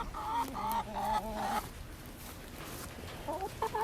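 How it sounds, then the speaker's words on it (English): Chickens cluck and squawk close by in short bursts, with a quieter pause in the middle before more clucking returns. "I might actually feed this one to the chickens."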